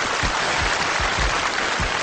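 Applause from an audience at a coin magic trick, a dense, steady wash of clapping that holds at an even level throughout.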